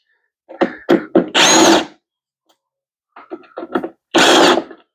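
A power tool is used during the teardown of an engine with spark plugs and an ignition coil: several short close bursts, then a longer whir, a pause, and another cluster of short bursts ending in a sustained run.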